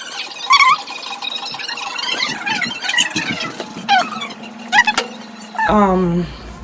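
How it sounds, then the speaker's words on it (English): A little boy screams in a New York City setting, with shrill squeals that come in bursts and a longer wail at the end. An adult's voice talks in between. "Why are you screaming, little boy?"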